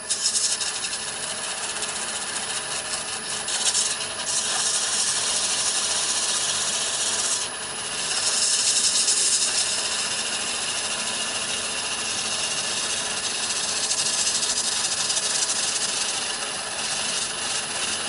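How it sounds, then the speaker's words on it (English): Steady, continuous rasping of wood being sanded by hand in a workshop, a close, even scratchy hiss that runs unbroken for the whole stretch with only brief dips, with no talking. "so I shall carry on sanding this"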